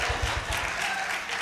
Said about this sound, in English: You gotta clap for yourself